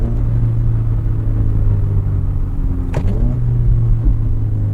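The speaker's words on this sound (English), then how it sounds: "Rev matching is just so fun." A car engine blipped during rev matching, with a low steady drone from inside the car and one short, sharp rise in revs near the end.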